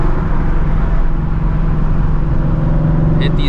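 Straight-piped Shelby GT350 with exhaust valves open, a loud steady low engine drone and rumble while driving, close and continuous, with a brief crackle near the end.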